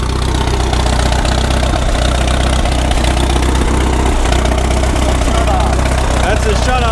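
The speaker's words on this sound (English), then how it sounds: "That thing started up like it just been run last week." Old Allis-Chalmers M dozer engine running after sitting for years, a loud, steady low rumble with rhythmic knocking pulses, close by and continuous.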